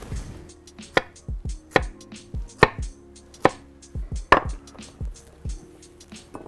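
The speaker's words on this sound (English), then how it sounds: "I'm just gonna cut each piece, 1, 2, 3, 4, 5 little bits of squash like that, right?" A knife chops squash into small pieces on a cutting board, giving sharp, close, distinct thuds in an uneven series of about a dozen cuts with short pauses between them.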